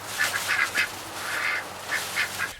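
Geese and ducks calling nearby, a loud run of nasal quacks and honks in quick clusters with a short lull in the middle, no voices.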